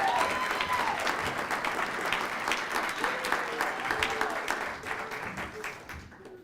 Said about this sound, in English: Please give a big round of applause to Sandra.